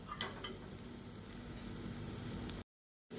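Beans fry in a pan for a quick stir-fry, a soft, steady sizzle with a few light stirring scrapes near the start, then a brief drop to silence near the end.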